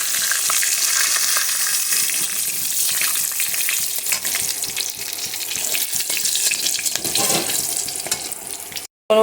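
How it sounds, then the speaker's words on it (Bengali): Whole bay leaf, cardamom, cinnamon and cloves sizzle in hot oil in a pan for a paneer curry, a steady close crackling hiss with occasional stirring scrapes, cut off briefly near the end. "এখন ফোড়নের জন্য আমি দিয়ে দিচ্ছি গোটা তেজপাতা, এলাচ, দারচিনি"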